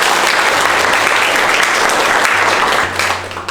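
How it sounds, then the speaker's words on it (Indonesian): A classroom audience applauds steadily at close range, a dense even clatter of many hands that holds for about three seconds before thinning out at the end. "Kita berikan aplaus lagi kembali."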